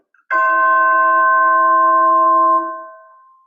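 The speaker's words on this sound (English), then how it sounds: "The Vic Firth chime hammer is got a great weight, which is important, and it's a hard plastic head on one side to get an articulate sound." A single tubular chime is struck with the hard plastic head of a Vic Firth chime hammer, giving a bright attack and a sustained ringing tone that holds steady and then fades, loud and close in a quiet space.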